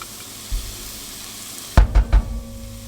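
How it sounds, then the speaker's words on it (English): Chipotle peppers hit a hot pan of spices for a spicy stewed beef, with a steady background hiss giving way to a sudden burst of sizzling and a few crackling pops and stirring knocks. "Now we're going to add in our chipotle peppers"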